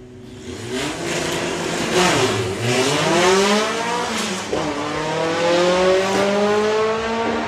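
Drag racing cars, including a VW R32 Jetta, launch hard at Santa Pod Raceway, loud engines revving and climbing through rising gear sweeps with tire squeal, close by and continuous with no talk.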